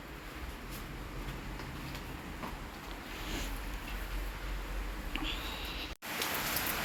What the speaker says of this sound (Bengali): দেখো বাইরে কত বৃষ্টি পড়ছে